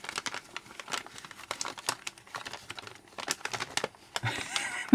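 Paper torn and crumpled while a present buried in lots of wrapping is opened, with a busy, close run of crinkles and rips that comes in bursts and grows louder near the end, no talk.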